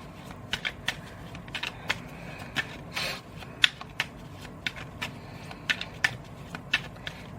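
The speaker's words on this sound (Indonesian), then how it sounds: "di-shuffle dulu kartunya" Playing cards are shuffled nearby, with a run of soft riffling flicks and sharp taps spread irregularly over several seconds against a quiet background.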